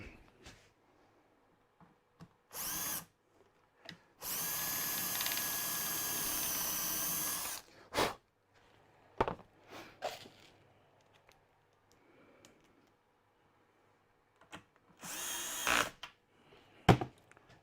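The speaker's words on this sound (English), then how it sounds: "Drill the hole." A power drill whirs loudly for about three seconds between short bursts, with clunks and handling noises in the quiet gaps.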